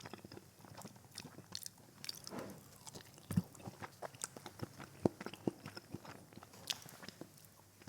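Close, soft chewing of a Jollibee burger steak with gravy, with irregular wet bites and small crunches over several seconds and no talking.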